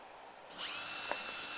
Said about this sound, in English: Using a small drill bit here to give myself a pilot hole for all the legs